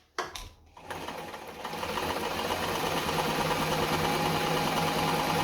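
A Singer 237 Fashionmate sewing machine stitching fabric at a longer stitch of about 8 per inch: a few brief clicks and a short start, then a loud, steady motor hum with fast, even needle chatter close by.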